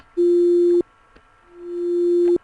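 A steady Sega Genesis FM synthesized tone plays briefly and stops, then after a pause a second tone swells gradually in from silence to full volume before cutting off.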